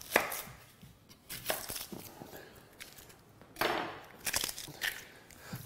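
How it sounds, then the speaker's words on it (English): A knife dices carrots on a chopping board in quick uneven bursts of crisp close knocks and thuds, some rapid clusters and short pauses, with no voices. "So just start off by dicing up your carrots."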